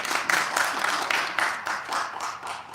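Audience clapping for a co-host at a live Pakistan Resolution Day flag-hosting event, a steady crowd applause that stays fairly even throughout with light rises and dips and no voices over it.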